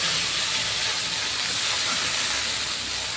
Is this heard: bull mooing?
no